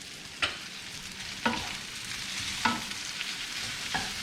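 Chilies stirred into a hot frying pan for shrimp pad thai, a continuous close sizzle broken by four sharp scraping stirs at regular intervals, with no talking.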